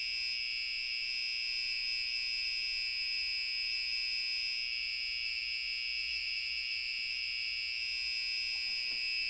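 A battery alarm on a scooter battery project sounds off at low voltage, a steady, piercing electronic beeping tone holding constant and fairly loud, with no talk over it.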